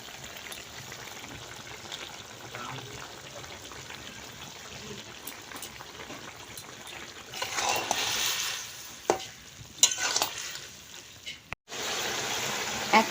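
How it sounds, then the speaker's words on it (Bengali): Fried small fish tipped into a pan of Malabar spinach cooking with ground spice paste and a little water, giving a loud sudden sizzle and splash after a stretch of quiet low simmering, then clatter and a steady hiss. "ভেজে রাখা ছোট মাছগুলো এখন দিয়ে দিব।"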